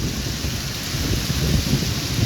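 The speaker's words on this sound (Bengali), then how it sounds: "আকাশের গর্জনটা আপনারা শুনেন, খুব বেশি আকাশ গর্জন দিতেছে, বৃষ্টির ফোঁটা শা শা করে পড়তেছে।" A Kalbaishakhi thunderstorm in Sylhet near a university area, with heavy rain pouring in a steady dense roar and deep rumbling thunder rolling underneath, loud and continuous.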